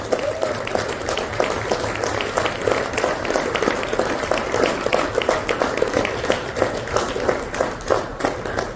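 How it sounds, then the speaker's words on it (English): A crowd applauds at the Indo-French Northeast investment forum in Guwahati, many hands clapping in a sustained, even patter that holds steady for several seconds, with faint voices mixed in beneath. "Those claps are not wide enough."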